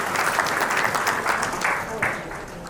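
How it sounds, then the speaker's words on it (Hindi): An audience at an honouring ceremony applauds in a dense, steady burst of many hands clapping, loud and close, with a slight swell near the end. "लेकिन आपकी तालियां बहुत ज़रूरी हैं उनके सम्मान के लिए"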